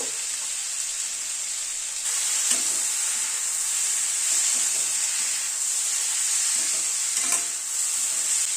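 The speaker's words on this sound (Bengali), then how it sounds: "কড়াইশুঁটিটাকে দিয়ে আরেকটু কষিয়ে নেব।" Green peas sizzle and fry in a spice mix in a pan while being stirred for a fish curry, a steady close hiss with occasional scraping stirs and no voices.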